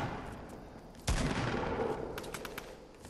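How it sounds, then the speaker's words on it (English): Bursts of gunfire crackle in a shooting video game, a heavy blast hitting partway through followed by scattered rapid shots at moderate distance. "People are shooting to our left, be careful."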